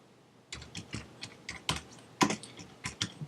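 A computer keyboard clatters with a steady run of quick, close keystrokes as a name is typed into a text tool, with no talking.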